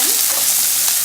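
A brief burst of onions frying in a pan with chilies, urad dal and curry leaves, a loud, steady close crackling sizzle with no talk.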